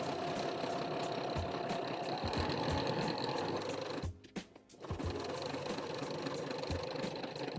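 A sewing machine stitches a zigzag seam on pajama pants, running in a fast steady mechanical whir, pausing briefly midway, then resuming at the same even pace.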